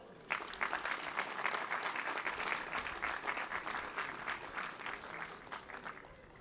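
Applause from a large audience at a university academic ceremony starts abruptly and carries on as dense, steady clapping, easing slightly toward the end, with no talking over it.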